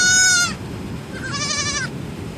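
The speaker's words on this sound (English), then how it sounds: "These are baby goats!" Baby goats bleat near waterfalls: one loud, wavering bleat cuts off, then a second quavering cry follows after a brief gap, both over a constant rushing roar of water.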